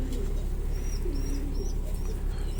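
French Lahm pigeons in a loft cooing steadily, a low continuous rumbling coo with repeated soft throaty phrases over a constant room hum, fairly close and moderately loud.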